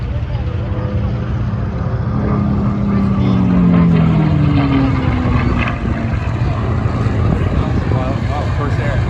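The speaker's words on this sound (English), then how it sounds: "Corsair coming, guys." A WWII Corsair fighter with a Packard-built engine passes at an air show, a loud continuous propeller drone with a rising and falling pitch sweep as it flies by, under steady crowd noise and people talking.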